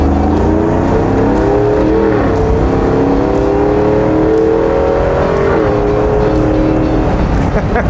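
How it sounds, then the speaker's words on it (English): A restored 1972 Chevy K5 Blazer with a new LT1 engine revs loudly and close, its deep, throaty roar rising and falling through several blips over a rumbling idle. "as I'm about to show you, it's definitely on the rowdy side, thanks to this new LT1 engine."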